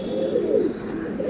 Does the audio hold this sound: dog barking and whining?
no